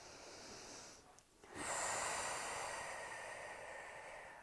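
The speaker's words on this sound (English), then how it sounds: "Take a deep breath in" A long, deep breath drawn in through the nose during a yoga balance class, a soft airy hiss that pauses briefly and then swells into a sustained close inhale, with no voices.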